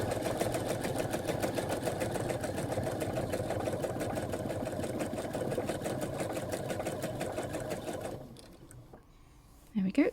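A sewing machine stitches steadily during free motion quilting, its rapid needle chatter running continuously and fairly close before stopping near the end, followed by a brief clunk.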